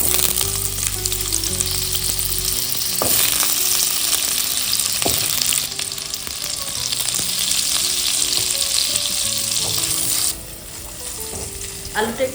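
Potatoes fry in white oil in a pan for vegetable pulao, giving a loud, steady sizzle with occasional stirring clatters and scrapes, and no talking, for the whole stretch.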